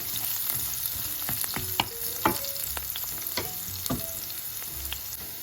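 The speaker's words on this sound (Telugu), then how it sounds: "సో ఇలా రోస్ట్ అవుతున్న టైంలో" Ingredients and dals roasting in oil in a pan for Andhra-style poha, with a steady sizzle and repeated scraping stirs of a spoon against the pan, close and moderately loud.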